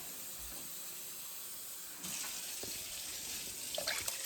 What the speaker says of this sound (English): So I'm just adding a little bit of water here.